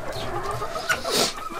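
A hen in a farmyard gives a few close, loud clucks, a short burst of throaty calls with a sharper note near the end.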